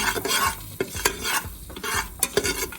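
Garlic, star anise, cloves and cinnamon are sautéed with rice for five spice rice. A utensil scrapes and stirs in quick irregular strokes over a close, steady sizzle, with no voices.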